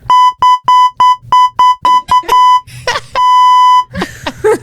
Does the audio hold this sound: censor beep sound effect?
yes